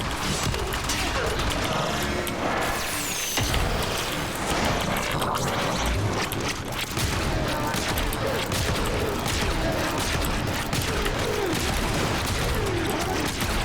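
Ferrox spear gun fire in Warframe, a dense, continuous run of game combat with sharp shots and clanking mechanical effects layered throughout, steady and loud.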